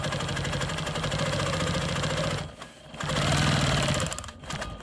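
A Quilt Maker Pro 20 sewing machine stitches steadily around a quilt block, a close, rapid mechanical whirring that dips briefly twice before resuming at speed.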